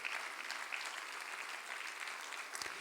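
A church congregation claps during a sermon, a faint, distant wash of steady applause with a few sharper claps standing out near the end.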